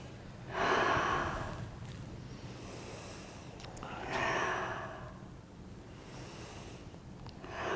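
Slow, guided breaths drawn in and let out during a meditation-style breathing exercise, two or three long soft sighing exhales separated by quieter pauses, close and alone with no talking.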